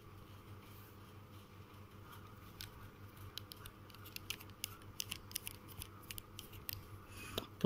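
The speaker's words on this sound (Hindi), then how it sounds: "अब इसके जो बैरल है उसको मैं वापस लगा देता हूँ।" A fountain pen barrel on a Luxor Ink Glaide Racer is screwed back on, giving a string of small, close clicks and ticks. The clicks grow sharper toward the end, over a faint steady hum.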